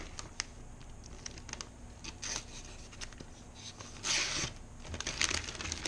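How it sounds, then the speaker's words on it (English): A Bark River JX6 knife blade slicing through a sheet of paper in a quick cut test, producing soft crisp rustling and scraping strokes up close, with a louder swish of cutting near the end. "we might as well start off and just do a little paper cut test real quick."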